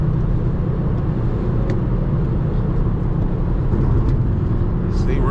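An Infiniti car fitted with coilovers takes a corner at about 65 mph, giving a steady, loud road and engine rumble throughout, with a voice speaking over it.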